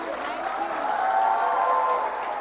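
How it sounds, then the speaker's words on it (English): Steady applause from an audience at an awards event fills the space, a dense wash of clapping that holds at an even level throughout. "Big round of applause."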